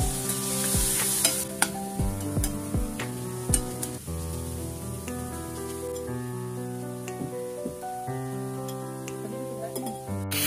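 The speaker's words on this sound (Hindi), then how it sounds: "अब हम इसमें टमाटर ऐड कर देंगे टमाटर ऐड करके हम दो मिनट तक पकाएंगे" Chopped tomatoes and vegetables for an egg omelette sizzle in a pan, with stirring clinks and scrapes scattered throughout under steady background music.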